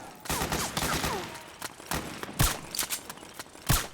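Gunfire in Metal Gear Solid 4: Guns of the Patriots, with rapid bursts of shots and scattered single cracks of varying loudness in an irregular, ongoing firefight.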